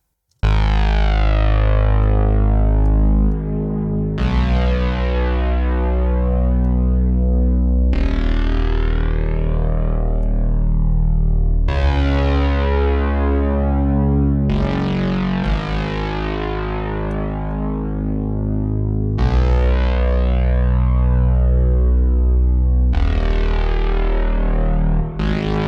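Fat synth bass played as long sustained notes with heavy distortion and a narrowed reverb, a dense rich tone that changes every few seconds and stays loud and steady throughout with no voices.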